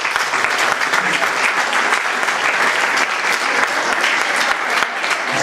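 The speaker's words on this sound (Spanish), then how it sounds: "este aplauso de la Corte." Audience applause at a court ceremony, a steady dense clapping that holds evenly from start to finish with no voices over it.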